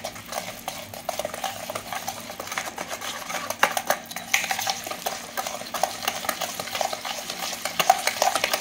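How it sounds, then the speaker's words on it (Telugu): Semolina batter made from ground sooji gets stirred in a bowl, with repeated close scraping and light clinking strokes in an uneven rhythm, and no talking. "వేసేసి మొత్తం కలిసేలాగా ఒక్కసారి కలుపుకుందాం."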